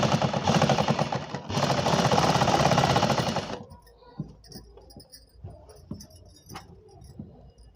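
An electric sewing machine stitches a four-panel petticoat in a loud rapid mechanical whir for a few seconds, briefly pausing once, then stopping and leaving scattered handling clicks and rustles of fabric.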